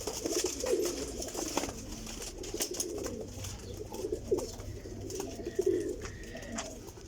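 Several pigeons with clean feathers cooing in a loft in Jhelum, repeated low throaty coos in uneven bursts, close by and fairly loud, with no talk over them.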